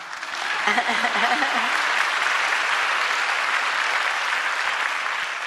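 A political rally crowd breaks into loud, sustained applause, a thick even wash of clapping that swells in and holds strongly throughout, with a brief voice audible early on.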